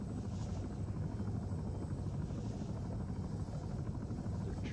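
Helicopter flying in the Arma 3 video game, a steady, close rotor drone with a continuous engine buzz, unbroken and even in loudness throughout.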